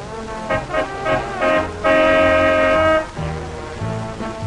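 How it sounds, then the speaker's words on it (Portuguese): A car horn honks outside a house, several short beeps followed by one long sustained blast, loud and close, then a softer tail of background noise. "Buzina."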